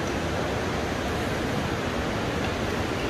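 A river rushes outside Manikaran Sahib Gurudwara near Manali, a dense, steady roar of flowing water that fills the whole span evenly and loudly, with no break or change.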